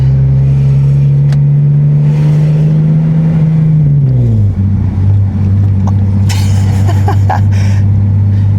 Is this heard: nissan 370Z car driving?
yes